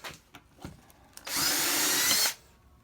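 A power drill with a 1/4 inch bit bores into a clamped wooden board during a closet build, a loud, steady whirring burst of about a second after some faint handling knocks.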